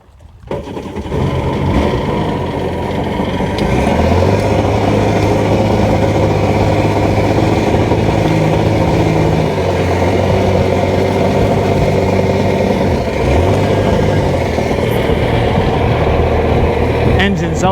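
A Sea-Doo GTX Di personal watercraft engine revs steadily in the water while under maintenance, a loud continuous drone with a rising and falling pitch that runs the full length.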